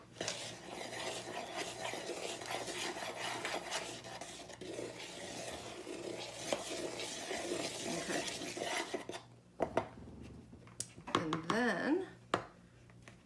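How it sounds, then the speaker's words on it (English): A spoon stirs flour and salt together in a bowl for banana bread, making soft rasping scrapes with an occasional clink, mostly under nearby conversation and then briefly alone. "Now why don't you take your spoon and just kind of stir that flour and salt together a little bit"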